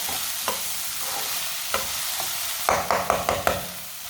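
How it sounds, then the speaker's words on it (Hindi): Onions frying in a pan give a steady close sizzle, broken by several scraping stirs that cluster near the end, with no voices. "प्याज को 1 मिनट के लिए मैंने पका ली है।"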